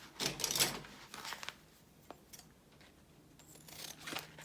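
Scissors snipping open a small plastic Ziploc pouch of stickers, a few brief crisp cuts and crinkles close up, quiet and without talk.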